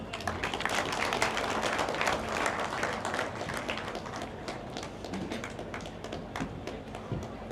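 An audience at the closing ceremony of the 25th EAC MSMEs Trade Fair claps and applauds. The clapping is fairly soft and scattered, with light thuds and taps in a large space, and it gradually thins out.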